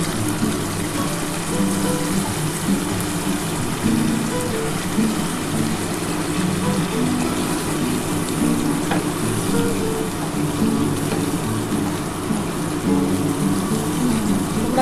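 Pabda fish cooks in a pan with a splash of water added, giving a steady, loud sizzle and bubbling that runs unbroken throughout with no voices.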